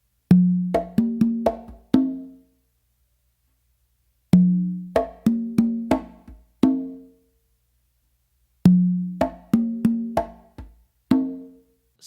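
Congas play a mambo tumbao groove. Three repeated phrases of quick hand strikes mix deep open tones with crisp slaps, separated by short silences, close and clear with no voice.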